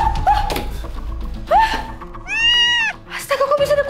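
A cat gives several close, clear meows, including one longer, rising and falling cry, mixed with bumps and a voice speaking.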